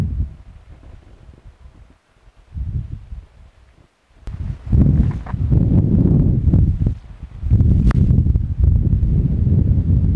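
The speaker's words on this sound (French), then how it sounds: "Il y a beaucoup de vent." Gusty wind buffets the microphone in loud rumbling blasts, swelling and easing, with some rustling and a few scuffing steps underneath, in an orchard of pear and cherry trees.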